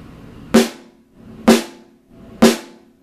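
Tight, crisp snare drum from a drum kit struck three times at an even, unhurried pace, each hit sharp and bright with a short ringing tail, played alone.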